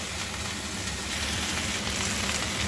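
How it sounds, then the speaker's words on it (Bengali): Pumpkin and okra fry with salt and turmeric in hot oil, making a dense, steady close sizzle with no pauses or voices. "জাস্ট এইভাবে একটুখানি আমি এটাকে ভেজে নেব ফ্রাই করে নেব"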